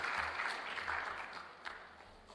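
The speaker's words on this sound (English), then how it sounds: "Give him a round of applause, man." Applause from the audience at a communications group's annual general meeting as the group chairman is welcomed, a steady, moderately faint crowd clapping that fades slightly over its length.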